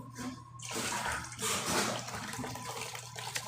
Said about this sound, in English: So let me get some hot water in here.